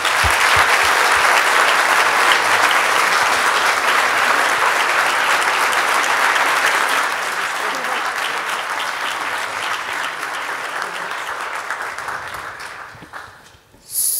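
An audience at a university lecture event applauds to welcome a speaker on stage: dense, loud clapping that holds steady, gradually thins, and fades out near the end.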